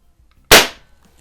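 A Crosman .22 caliber CO2 pistol fires a single sharp, loud shot at close range, with a quick decaying burst and no other sound around it.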